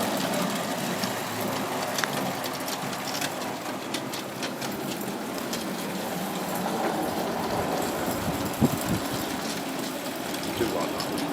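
A steam train on the White Rock Mountain Railway rumbles steadily with rhythmic clatter and exhaust chuffing, moderately distant, under a broad wash of outdoor noise.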